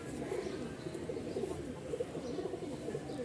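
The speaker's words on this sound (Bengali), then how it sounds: "দেখছেন প্রতিটা কবুতরের ডাক হাক মাশাল্লাহ খুব ভালো আছে" Male pigeon cooing among a flock of pigeons kept for breeding and flying, a steady run of low, throaty coos repeating throughout at close range, with no talk.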